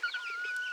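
A chicken gives a short, close, rising cluck with a thin tonal edge. It lasts under a second, with nothing else heard.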